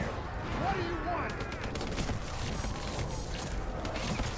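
Gunfire in Call of Duty: Black Ops 3, a dense sustained crackle of shots running through the whole stretch at steady volume, with a voice talking over it.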